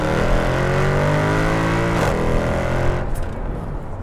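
A family estate car in Sport Plus mode, driven onto the A50, revs hard with a loud rising engine note and harmonic growl for about three seconds before the revs drop away to a quieter rumble.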